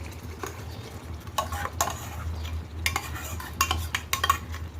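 Tamarind juice and a paste are poured into a pan and stirred while cooking a stuffed brinjal curry, giving soft liquid sizzling with repeated scraping and clinking strokes of a spoon against the pan, close and steady with no talk.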